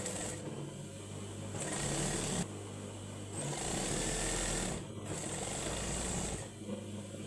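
A sewing machine stitches dress fabric in bursts, its motor whirring and needle chattering in several runs separated by short pauses, close and fairly loud.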